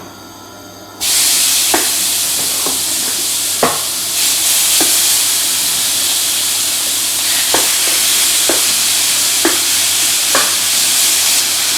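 Lamb for a tagine searing in a hot pan gives a loud, continuous sizzle with scattered sharp pops and occasional clinks of stirring throughout.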